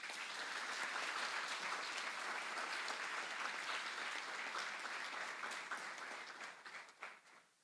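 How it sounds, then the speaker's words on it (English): Sustained audience applause fills the hall at a Model United Nations opening ceremony, a dense steady clapping crowd that fades out near the end. "And I think that in itself deserves a hearty round of applause."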